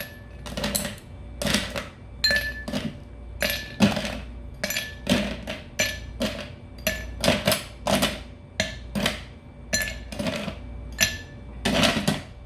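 Ice cubes dropped one by one into a mixing glass while a Manhattan cocktail is prepared, about eight to ten cubes: a steady run of close, hard clinks and knocks against glass, each one distinct.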